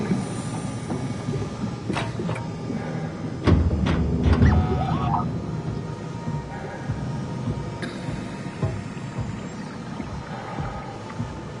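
Shuttle train in the sci-fi horror game Soma, a continuous mechanical rumble with clanks, metallic squeals and a heavier jolt partway through, steady and moderately loud throughout.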